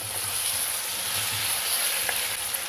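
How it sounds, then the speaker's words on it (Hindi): Chicken fries in a pot for pulao, giving a steady close sizzle with faint crackles and light stirring, loud and continuous with no voice. "5 से 7 मिनट के लिए चिकन को हम यहाँ पर ऐसे ही फ्राई करेंगे।"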